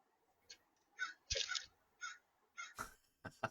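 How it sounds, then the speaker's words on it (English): A crow caws several times as it flies past outdoors, a series of short, harsh calls spaced about half a second apart, fairly distinct against a quiet background, with a few sharper clicks near the end. "A crow flew by"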